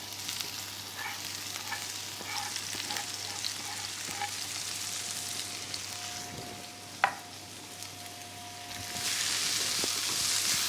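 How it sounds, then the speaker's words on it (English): Steady crackling sizzle of food frying in hot oil, with a few clinks of a utensil and a louder hiss surging near the end. "Now you can add the leeks in, and you'll hear that sizzle."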